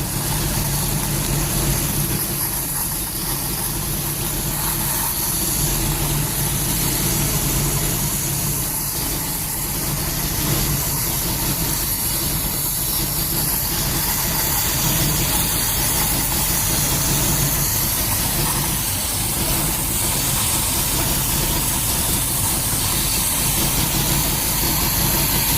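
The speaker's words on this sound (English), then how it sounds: "You're going to hear the engine start to bog." A boat engine idling while its carburetor is fogged with oil, a continuous rough rumble with uneven knocking and faint sagging as it bogs, running alone for the full stretch.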